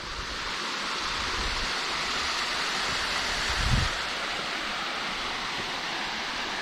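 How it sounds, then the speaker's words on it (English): A waterfall at Springbrook Mountain, heard from the bottom pool along a hiking track, gives a steady, full rushing roar throughout, close and unbroken, with a brief low thump midway. "So this is the waterfall from down the bottom area."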